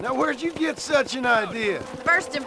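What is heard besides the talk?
No distinct noise like a dog, phone or traffic.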